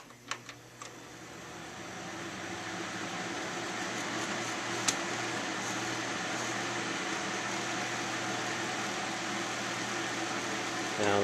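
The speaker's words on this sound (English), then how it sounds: "Now that's with the fan on low, which is where I keep it." A homemade hop oast and malt kiln dehydrator built into an oven, its fan running on low as a steady, moderate mechanical hum and whir, with a couple of brief clicks at the start.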